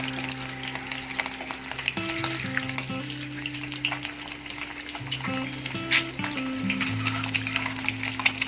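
Split eggs fry in hot oil in a pan, a steady dense sizzle holding at even loudness throughout, with a faint tonal hum underneath and no talking.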